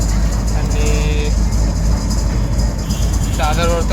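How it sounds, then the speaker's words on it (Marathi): A crowded Mumbai fast local train running out of Dadar fills the carriage with a loud, steady rumble of wheels and motors, joined by brief whistle-like tones and crowd murmur. "दादरवरतून फास्ट लोकल पकडली होती."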